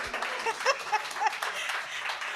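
Brief applause from an audience at an evening books-and-brews author event, a thin patter of clapping lasting a couple of seconds, with a few voices faintly mixed in.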